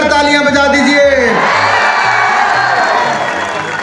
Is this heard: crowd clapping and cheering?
yes